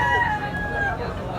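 A grey bullstag gamecock with blue legs crows once in a drawn-out call, set against a low background hubbub of voices and noise.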